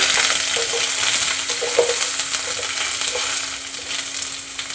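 Mustard seeds and onion frying in hot oil for village-style tamarind rice, a steady close sizzle with faint crackles and stirring scrapes throughout, no voices.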